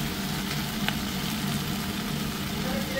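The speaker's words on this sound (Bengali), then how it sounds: "এরপরে আমি মাছ দিলাম।" Fish added to a pan of simmering gravy, making a soft, steady sizzle and bubbling hiss at low volume with one brief sharp crackle.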